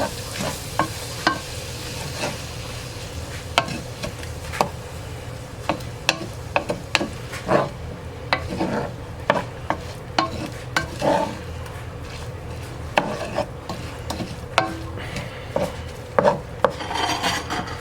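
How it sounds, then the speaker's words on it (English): Onions and celery sauté in a pot while a utensil scrapes and stirs them, giving a continuous sizzle broken by frequent sharp, irregular scraping strokes, close and fairly loud. "my onions, and my celery. I'm going to get those sauteed and get them"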